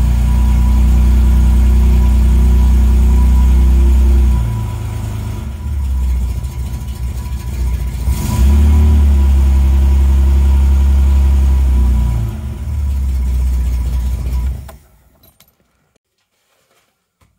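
Engine idling with the choke pushed in after starting, a loud steady low rumble close by that dips and wavers midway, then cuts off abruptly near the end, leaving near silence.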